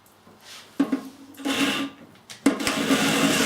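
A power drill whirs in two bursts, driving screws into a wooden drawer in a workshop, each run rising sharply and holding steady, separated by a brief pause.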